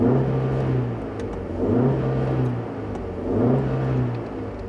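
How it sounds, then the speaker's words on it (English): A 2015 Audi S3 or BMW 228i sports car engine growls with a low, steady rumble that swells into two or three rising revs, loud and close with no talk over it. "it's not exactly what I would call a whisper quiet engine. It growls a little bit, actually kind of snorts a little bit"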